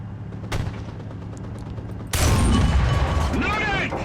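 A Soviet tank gun fires once in War Thunder, a sudden loud, heavy blast about halfway through that cuts over a steady engine rumble. Voices come in over the sound afterward.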